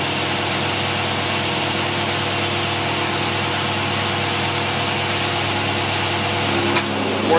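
A car engine fitted with a tri-power carburetor set idles steadily at about 800 rpm, loud and close. The even running note continues without a break and no one speaks.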